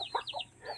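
Chickens and chicks on a farm, with several short clucking and peeping calls in a quick uneven series, fairly close and moderately loud, no talking.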